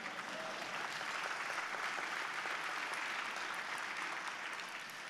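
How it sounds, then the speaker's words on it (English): An audience at a law school speech claps steadily in a dense, even roar of applause, heard from some distance and fairly faint, holding without a break for about five seconds. "you can clap for Barack Obama, that's okay."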